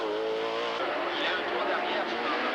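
Race cars on a race track: a loud, steady engine roar with a high whine that shifts into a broad rushing drone, continuous throughout.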